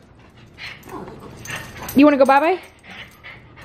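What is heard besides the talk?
dog whimpering and panting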